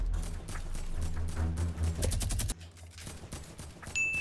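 Rapid bursts of AK rifle gunfire from the Fortnite video game: loud, dense automatic fire that continues almost without pause, close up and alone.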